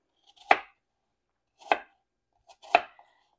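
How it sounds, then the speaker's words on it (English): A knife chops apple into small bits on a board for an apple cake, three crisp, separate thuds spaced about a second apart, close and clear with nothing else heard. "you don't want to chop these little apple bits up too fine"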